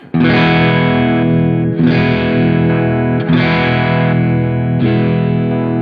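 A distorted electric guitar chord through a Cornford Harlequin amp with mid boost rings out loud and sustained, struck four times in a steady rhythm with no talking, thick with overdriven midrange.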